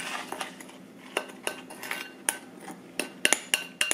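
A spoon clinks and scrapes in a bowl while crushed graham cracker is mixed, giving an irregular run of close, bright taps with no talking.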